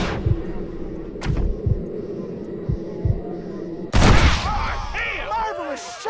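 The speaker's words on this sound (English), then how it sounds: "Marvelous shot, dear boy." A Red Dead Redemption gunfight: a single sharp, loud gunshot cracks out over a low rumbling background with dull thuds, followed by ringing and whistling tones.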